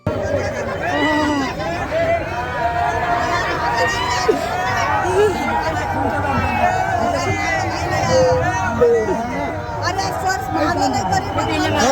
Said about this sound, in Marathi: इथे सुद्धा खूप जास्त प्रमाणात गर्दी आहे